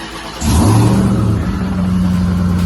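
A Ram TRX truck's engine fitted with a Hellion twin-turbo kit revs up loud and close, a deep throaty roar that swells sharply then holds at a steady high idle.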